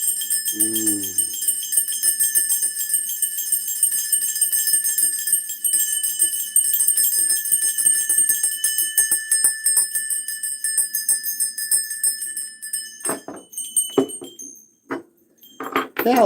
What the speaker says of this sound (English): Let's end with some bells